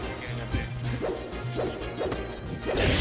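Marth's forward smash attacks land in a fighting video game, giving a fast run of sharp whooshing sword swings and smacking hits that repeat several times at close range over a busy game backdrop.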